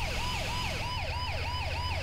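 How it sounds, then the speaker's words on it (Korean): A Mercedes-Benz Sprinter ambulance in GTA V wails with a continuous rising-and-falling siren, steady and fairly loud, cycling about every half second with no other sounds. "참고로 이 구급차도 요카이님이 만들어주신 스킨입니다"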